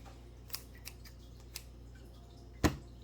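Scissors cut a small paper arrow shape with a few faint quiet snips spaced apart, ending in one sharper, louder closing snip, close by with no talking.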